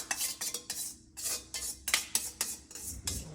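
A utensil scrapes cooked hamburger out of a metal pan in a run of rapid, rhythmic, close, loud strokes with brief pauses between them.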